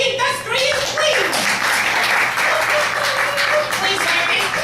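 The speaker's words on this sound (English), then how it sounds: "A round of applause for the industrious fleas." Audience at a flea circus show breaks into sustained applause, dense clapping from many hands filling the room at close range, with voices mixed in.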